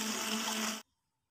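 A hand blender whirs steadily while blending a cooked sauce for crispy chicken steak, a loud continuous buzz lasting under a second before it cuts off abruptly into silence.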